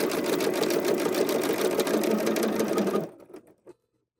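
A sewing machine fitted with a 97 D-foot and cream thread top and bottom runs a short reinforcing stitch, a fast, steady rattling hum for about three seconds that then stops, followed by a few faint clicks.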